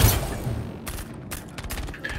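Gunfire comes as several separate sharp bursts over a noisy background, moderately loud and somewhat distant, with brief gaps between shots.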